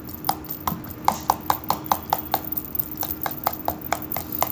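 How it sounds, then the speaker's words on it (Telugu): Four eggs for a Spanish omelette beaten briskly with a utensil in a bowl, a fast run of sharp, even clicks and taps in a steady rhythm, close and fairly loud with no talk. "ఇలా నీట్గా అన్నీ కలిసేలాగా బీట్ చేయాలి"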